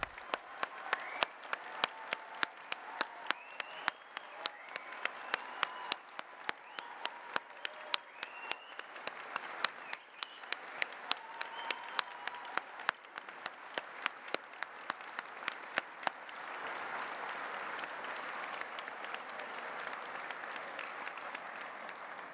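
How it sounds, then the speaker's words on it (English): An audience at an Open University degree ceremony in Cardiff applauds the graduates with sustained, dense clapping that keeps going for over twenty seconds and swells into a fuller wash of applause near the end. "let's start today's ceremony by giving all our amazing graduates a huge round of applause"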